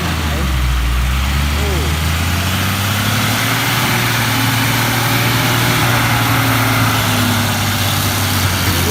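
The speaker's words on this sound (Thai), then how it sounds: "คือรถขนอ้อยนะครับที่มาบรรทุกดินเนี่ย" Hino ten-wheel sugarcane truck hauling dirt on a sticky track, its diesel engine rumbling loud and close, with a steady low drone that slowly rises in pitch as it pulls away.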